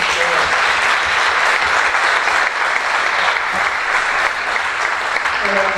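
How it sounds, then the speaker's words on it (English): Sustained, loud audience applause at a Rotary Club oratorical finals event, dense even clapping from a large room filling the whole stretch without a break. "give them another round of applause"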